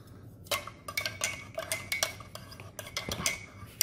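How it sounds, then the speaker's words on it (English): A spork stirring an MRE meal in its pouch, a run of quick clinking and scraping taps in uneven rhythm, close and fairly quiet. "Give it a little stir."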